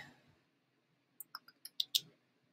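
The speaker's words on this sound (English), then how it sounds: "so then you click allow" Computer mouse clicks on a PC, six quick sharp clicks in a short irregular burst, close and fairly clear against a quiet room with faint low hum.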